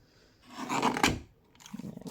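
A small paper guillotine trimmer slicing through the edge of a card, heard as a short, close rasping cut lasting about a second, followed by a lighter scraping rustle.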